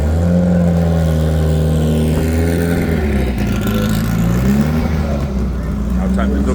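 A street drag car at Santa Pod, a loud engine accelerating down the strip and climbing through the gears, heard continuously beneath a commentator's voice.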